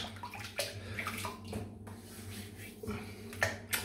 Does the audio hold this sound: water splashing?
yes